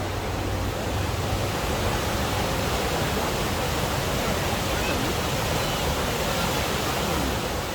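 Rushing water of the Isar Canal in a Munich park, where people surf, forms a dense, continuous roar that stays loud and steady from start to finish with no voices.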